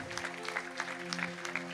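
A wedding congregation at a church ceremony claps together, a moderate spread of hands under a sustained musical drone or organ-like tone, with no voices over it.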